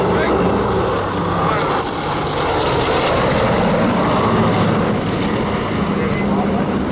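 Radial piston engines of about 3,400 horsepower on a vintage airliner at an airshow drone in a loud, continuous, rumbling roar that fills the whole stretch, with someone talking over it.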